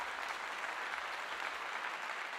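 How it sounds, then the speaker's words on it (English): An audience applauds a radio host at a live event, a steady wash of clapping that holds evenly from start to end at moderate volume. "Round of applause for Corey"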